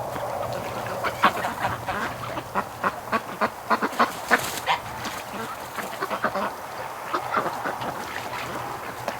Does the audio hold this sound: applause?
no